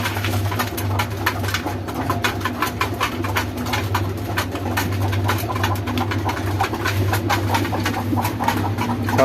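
Pigeons coo continuously in a busy loft, their low throaty calls overlapping with rustling and fluttering throughout, with a steady low hum underneath.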